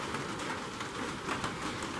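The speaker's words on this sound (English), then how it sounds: "which fittingly enough, it's raining." Rain falls quietly outdoors on a hiking trail at Reece Farm and Heritage Center in Georgia, a soft, even patter and hiss heard from a distance with no talking.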